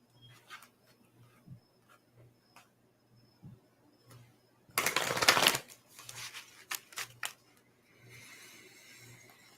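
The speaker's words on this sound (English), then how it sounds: "I'm going to pull a card for the group." Oracle cards shuffled during a group spiritual circle, with one loud burst of riffling in the middle, then scattered softer card flicks and rustles over a faint steady hum.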